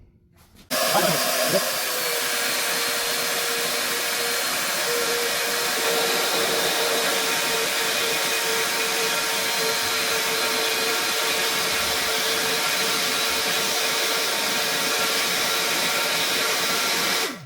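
A flow bench testing a Shredder cylinder head starts abruptly and then roars as a loud, steady rushing airflow with a faint tonal whine, holding constant for about sixteen seconds before cutting off.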